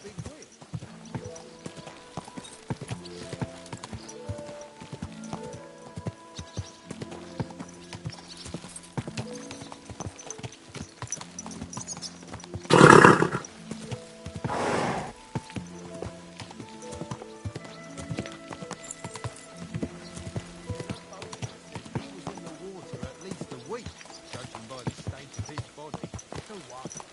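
In the video game Kingdom Come: Deliverance II, horse hooves clip-clop steadily at a slow walking pace, joined by a loud burst mid-way, with people talking over the top.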